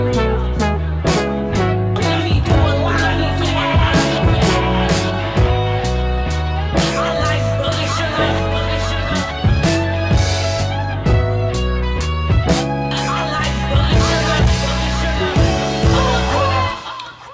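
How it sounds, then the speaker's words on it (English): Prophet Rev 2 synth lead run through a compressor and RC20, playing a melodic line over a full, loud beat with punchy drums and deep bass throughout. "On the Prophet, I have a compressor and some RC20."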